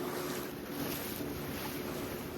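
A boat moves across the water near Honnavar, giving a steady low rumble with wind rushing over the microphone, continuous and fairly faint, with no voices.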